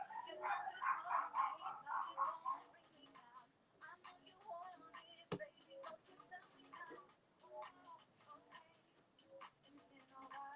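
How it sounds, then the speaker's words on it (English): Dogs barking and yipping nearby in repeated bursts, loudest at the start and then scattered intermittently, with a voice speaking faintly underneath. "I apologise for the dog noise."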